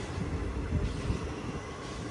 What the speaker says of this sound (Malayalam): ഏഴിമല റെയിൽവേ സ്റ്റേഷനിൽ നിന്ന് വണ്ടി എടുത്തിരിക്കുകയാണ്